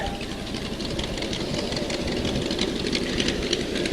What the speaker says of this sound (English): Number 7 is Gary Rivers Sr., riding a 1938 John Deere L from Katyville, New York.